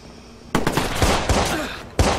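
Gunfire from the Watch Dogs video game, with dense automatic bursts and sharp single shots. Loud and close, it starts abruptly after a quiet moment and runs steadily, with a fresh burst near the end.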